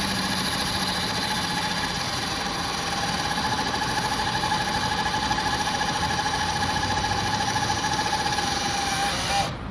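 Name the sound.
chainsaw engine roaring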